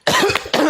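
A man gives two harsh, loud coughs in quick succession, close up and with no talk over them.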